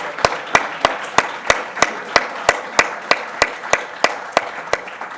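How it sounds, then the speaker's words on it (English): At an athletics hall of fame ceremony, the crowd claps for a national championship men's cross country team in slow, evenly spaced unison beats, about fourteen sharp claps in steady rhythm. "we can give another round of applause to the 2012 ESF Men's National Championship Cross Country Team"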